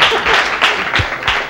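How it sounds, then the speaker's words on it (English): An audience at a 1982 college talk on prison reform applauds, a dense burst of clapping that swells and fades in waves over a short stretch, loud and close. "I guess I'll applaud that."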